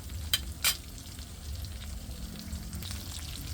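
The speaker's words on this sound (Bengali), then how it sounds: "মিডিয়াম একটু তেল দিয়ে চিকেন চাপটা বাজে একটু সময় নিয়ে বাজতে হইবে" Chicken chaap fries in a medium amount of oil, giving a close, steady sizzle, with two quick sharp scrapes near the start as the pieces are moved.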